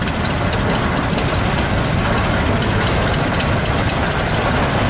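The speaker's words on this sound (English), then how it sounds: "John Deere G with a three-bottom John Deere plow behind the pull-tight plow." A John Deere G tractor pulling a three-bottom John Deere plow rumbles loud and close in a tractor parade at a steam and gas show, its engine running steady and heavy throughout.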